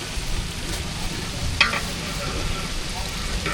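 Onions, tomatoes, ginger and mint frying in a pot for mutton biryani give a steady, soft sizzle, with a brief scrape of stirring partway through.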